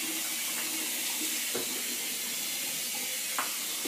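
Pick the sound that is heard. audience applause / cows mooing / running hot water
running hot water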